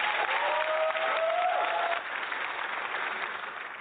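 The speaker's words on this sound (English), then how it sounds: "Big round of applause." An audience bursts into loud, sustained applause that holds steady and then tapers slightly, with faint voices mixed into the clapping.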